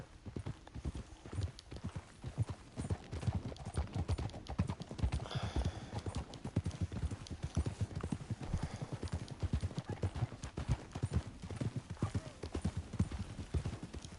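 Horses' hooves clip-clop rhythmically in a video game, a rapid steady trot of hoofbeats over ambient game sound, close and continuous.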